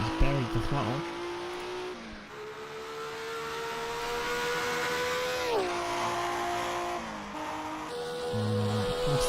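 Group 5 DRM 1970s–80s race car at full throttle at Zandvoort, a loud sustained engine whine climbing through the gears with brief dips at shifts, a commentator talking over it.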